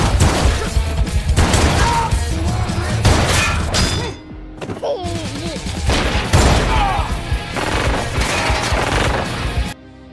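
An action-film shootout plays out as sustained bursts of gunfire with heavy thuds and shattering impacts, loud and nearly continuous, briefly easing midway before resuming and stopping abruptly at the end.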